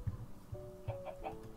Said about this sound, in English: Oh, here's chickens.